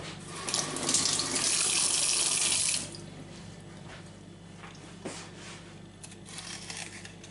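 Vegetables are washed under a running kitchen tap. A loud gush of water lasts about three seconds, then gives way to quieter rinsing, dripping and handling sounds.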